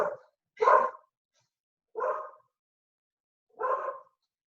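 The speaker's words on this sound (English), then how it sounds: "Sorry about my dog." A dog barks three times in a quiet indoor setting, the barks spaced about a second and a half apart, mid-loud and close, with no talking over them.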